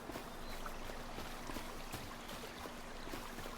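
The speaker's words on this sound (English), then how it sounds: "I hear water." Flowing water in a farm-themed video game runs as a steady, even wash of stream-like noise with no breaks, fairly quiet and heard alone.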